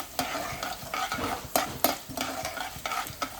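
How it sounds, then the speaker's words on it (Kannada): Cumin and cardamom fry in oil for semiya upma, a soft sizzle under repeated scraping stirs of a spoon against the pan, close and rhythmic, with no talk. "ಸ್ವಲ್ಪ ಜೀರಿಗೆ, ಸ್ವಲ್ಪ ಎಲ್ಚಿ ಹಿಂಗೆ ಹಾಕ್ತಾ ಇದ್ದೀವಿ. ಸೊ ಇದನ್ನ ಸರಿಯಾಗಿ ಫ್ರೈ ಮಾಡ್ಕೊಳ್ಳೋಣ"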